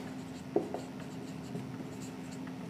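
A pen writes on paper in faint, sparse scratches with a low steady hum behind them, close but quiet and without talk.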